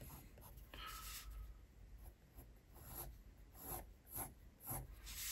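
Pencil sketching a rose on paper, soft scratchy strokes that come in short repeated bursts, close and quiet.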